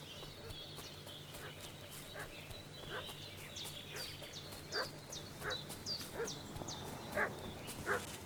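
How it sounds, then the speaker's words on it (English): Dog barking in the medieval village world of Kingdom Come Deliverance 2, a series of sharp yips and barks at moderate distance, growing more frequent toward the end over low ambient hum and faint hoof clip-clops. "What's that dog making such a fuss about?"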